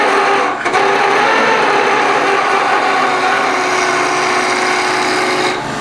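A skew chisel turns a particularly hard timber on a lathe for a pen, giving a close, continuous scraping rasp with a rattling chatter throughout and no talk.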